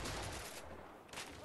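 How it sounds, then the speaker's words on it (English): Rapid gunfire crackles from the video game A Way Out, a dense burst of shots close and loud, pausing briefly before another volley. "Oh, no, he's shooting at me from the front, Nick."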